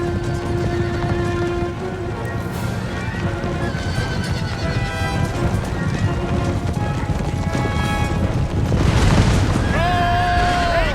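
Horses neigh and whinny amid a battle in the video game Empire Total War, with clip-clop of cavalry, booming shots and a busy, dense game soundscape throughout.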